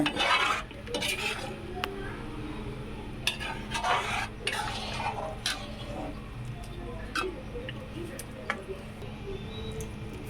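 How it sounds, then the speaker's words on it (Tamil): Boiled cowpeas being stirred into a brinjal masala curry in a pot, with scattered scraping clicks and knocks of a spoon against the vessel over a low, steady background hum. "வேக வைத்த அந்த தட்டை பயிரை இதில் சேருங்க சேர்த்து நல்லா இப்போ கிளறி விடுங்க"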